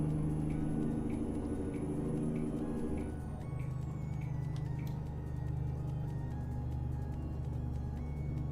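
A heavy twin-steer truck in American Truck Simulator pulls uphill, its diesel engine droning steadily and low, with a brief hiss and a rising whine partway through; no talking.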